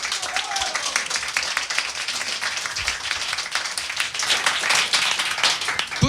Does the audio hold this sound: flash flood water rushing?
no